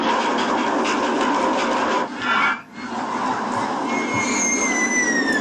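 Roller coaster train of twenty cars running on track in the theme park game OpenRCT2, a steady loud rolling rumble with a brief dip midway and rising whistling tones near the end.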